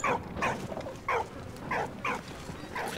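A dog barks in the World War I adventure game Valiant Hearts, giving about six short, fairly loud yips and barks spaced irregularly over a few seconds, with no talking.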